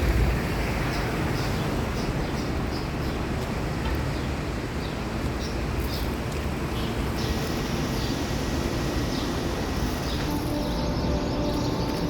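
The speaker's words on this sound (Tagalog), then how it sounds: "Ang ganda ng huni ng ibon." Many birds singing in trees, a dense continuous outdoor chorus of chirps over a loud steady background rumble like wind or distant traffic, persisting evenly throughout.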